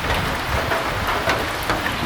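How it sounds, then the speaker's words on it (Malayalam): Heavy rain falling steadily inside a forest in the Periyar tiger reserve, a dense, continuous wash of drops with a few louder splashes standing out, no voices. "ശക്തമായ മഴയാണ് കാടിനുള്ളിൽ"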